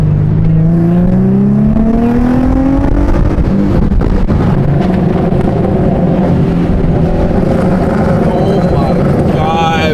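An Infiniti G37 engine revs hard while sliding through corners, a loud, sustained roar climbing in pitch then holding high with rough, fluctuating tone, mixed with people's voices.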